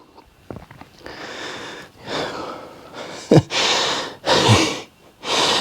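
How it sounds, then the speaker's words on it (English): Heavy, breathy exhalations and gasps during an abs workout on a dip station, coming in several loud bursts that grow stronger toward the end, close up with no speech. "I apologize about any heavy breathing. It is a very breathy workout today"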